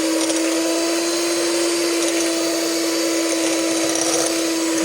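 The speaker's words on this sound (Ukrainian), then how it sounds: "Беремо міксер і будемо зараз збивати." Electric hand mixer whisking eggs with sugar, a loud, steady motor whine with a strong constant hum that holds unbroken from start to end, close and with no talk.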